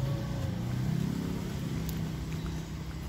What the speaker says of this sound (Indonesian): Bisa dilihat ini mobil yang sudah bisa melewati pekerjaan pengaspalan aspal hot mix yang sudah selesai